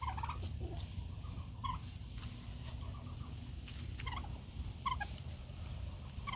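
Easter egger chickens scratching around and clucking, with short scattered calls rising over a constant low rumble of background noise.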